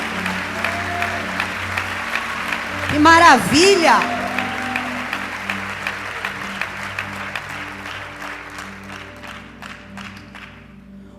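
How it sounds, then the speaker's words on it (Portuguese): Loud, rhythmic applause rolls through a church congregation during a Portuguese-language sermon, with a voice briefly exclaiming over it before the clapping gradually thins and fades out. "Aplauda Jesus."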